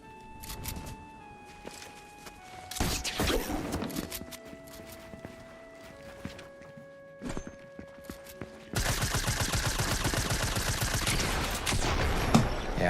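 Submachine gun fire in a shooter game crackles in short scattered bursts, then turns into a dense, loud, continuous stream of rapid shots near the end, with no voices.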